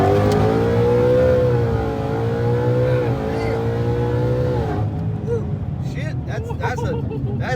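A supercharged Chevy launched from low gear, its engine roaring loud and close as revs climb in a rising howl, then a sudden shift and renewed surge with blower whine, heard from inside the car.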